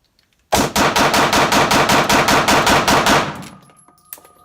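Rapid, continuous string of loud gunshots from a SIG P320 pistol, roughly a dozen close, evenly spaced cracks over about three seconds, then a fading echo tail with no talking.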